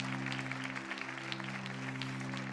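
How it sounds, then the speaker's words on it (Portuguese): Congregation applause in a church service, a steady dense patter of clapping spread across the whole short stretch, heard over a sustained low musical hum from keyboard or organ. "Não, aplauda mesmo."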